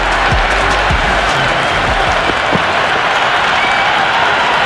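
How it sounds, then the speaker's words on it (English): A cricket stadium crowd in Cricket 26 roaring and applauding after a six, a loud, sustained wash of cheering and clapping that stays at a constant level throughout. "It's almost palpable, the excitement emanating from this crowd at the moment"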